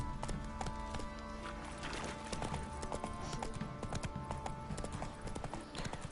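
Roach, the horse in The Witcher 3, trots with a steady clip-clop of hooves, loud and continuous over a constant game background.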